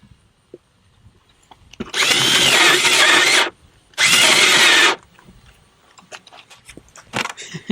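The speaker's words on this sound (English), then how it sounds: "I kind of rotate the bit a little bit while I'm drilling it in this kind of motion" A cordless power drill bores into wood while building an American kestrel nest box, two loud sustained bursts of about a second and a half each, separated by a short pause, followed by light handling clatter.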